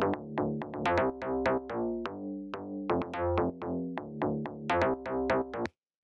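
A bouncy synth bass pattern from a melodic bass house track plays in short, plucky staccato notes with a syncopated rhythm, fairly quiet and alone, before cutting off.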